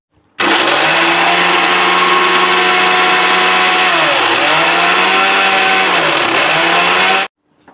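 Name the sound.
mixer grinder grinding sambar powder spices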